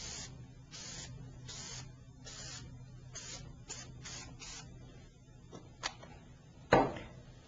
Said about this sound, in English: Always spray out to the side.